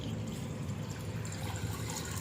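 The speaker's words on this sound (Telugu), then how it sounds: "ఫస్ట్ నీళ్ళు అయితే పోసుకోవాలి" Water is poured into a cooking pot to make Maggi instant noodles, a soft, steady, faint liquid stream heard close and alone.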